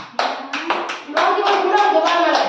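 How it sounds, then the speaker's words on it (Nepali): Children clap their hands in bursts of quick claps, close and fairly loud, with children's voices chattering underneath. "ताली पकाएर तिमीहरू थ्यांक यू"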